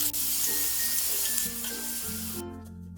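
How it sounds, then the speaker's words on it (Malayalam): Masala-coated prawns fry in hot coconut oil, a loud, dense sizzle close up with stirring scrapes running through it and tapering off at the end. "എണ്ണ ചൂടായി വരുമ്പോഴേക്ക് ഈ മസാല പുരട്ടി വെച്ചിരിക്കുന്ന പ്രോൺസ് ഇതിലേക്ക് ഇട്ടിട്ട് നല്ലതുപോലെ"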